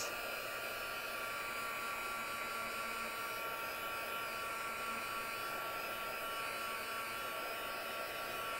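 A heat tool blows steadily to dry a mixed-media art journal page, giving a constant loud whooshing hum with no pauses from start to finish.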